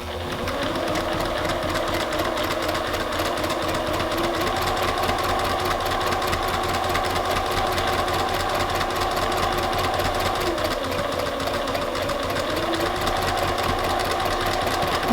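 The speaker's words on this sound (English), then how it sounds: "So I'm stitching first down the right hand edge with a 1/4 inch seam allowance" Steady, continuous whir of a sewing machine stitching quilt fabric with a quarter-inch seam, running close and evenly without pause throughout.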